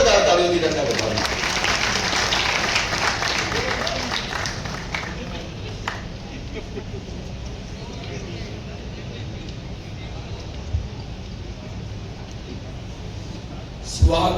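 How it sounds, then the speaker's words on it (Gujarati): Sustained applause from an audience welcoming a guest at the Saptrang Creators Fest award ceremony, loud and dense at first, then easing into steadier lighter clapping with crowd noise throughout. "એકવાર જોરદાર તાળીઓથી તેમને વધાવીએ."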